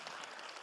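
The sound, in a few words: audience applause at a conference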